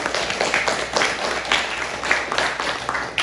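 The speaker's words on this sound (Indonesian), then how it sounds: "Tepuk tangan yang mulia." A school literacy workshop audience claps, bursts of hand claps rising and falling in uneven waves across a few seconds, moderately loud and somewhat rhythmic, without clear talk over them.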